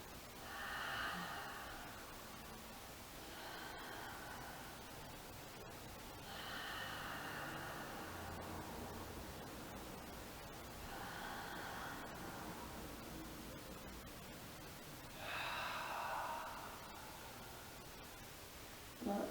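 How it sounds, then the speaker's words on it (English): Slow, audible Ujjayi yoga breaths repeat in a quiet room, each long hissing inhale or exhale arriving every few seconds, close and soft against faint background hiss. "Let's take a couple another Ujjayi breaths in this pose."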